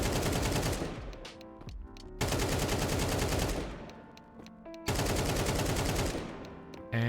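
AK rifle sprayed in a shooter video game, three long bursts of rapid automatic fire, each loud and continuous, separated by short decaying pauses.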